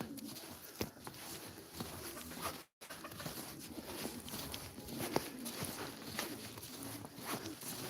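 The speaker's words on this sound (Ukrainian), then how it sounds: "Голубятня" Pigeons coo softly in a dovecote amid a rustling, busy background, with occasional light clicks and shuffling; the calls sit low and are partly buried in the noise.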